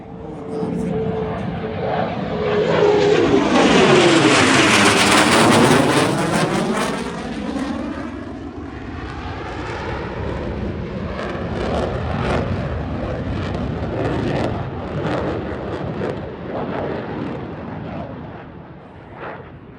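A military jet roars past overhead at an air force anniversary display, its pitch sweeping downward as it passes, then a long rumbling fade into the distance.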